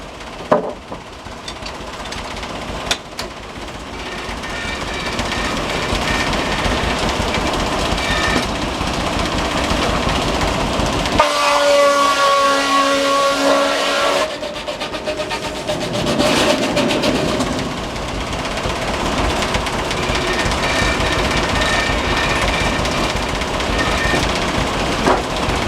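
A sawmill runs in spring on a farm in Derwood, Maryland, its blade cutting a log with a continuous loud mechanical roar and grinding whine that swells midway, with no talking.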